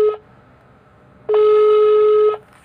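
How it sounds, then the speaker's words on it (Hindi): Outgoing phone call tone in the Evil Nun horror game: two electronic ringback tones, a short one at the start and then a longer sustained ring after a pause, loud and clean with no talk. "कॉल लग रही है।"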